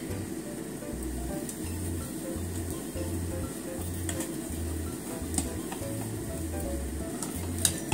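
Datemaki egg mixture sizzles and crackles steadily in a frying pan, a soft, even frying hiss with faint occasional clinks and no talk.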